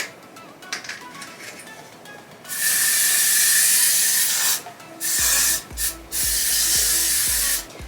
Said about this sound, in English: I'm just gonna very lightly spray the hairspray all around.